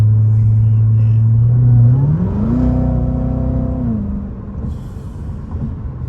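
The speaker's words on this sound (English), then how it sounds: "That kick down is so nuts" A car kicks down a gear and accelerates hard, the engine note jumping from a low drone to a higher, rising roar that holds for a couple of seconds before easing off into a steady rumble, loud and close from inside the cabin.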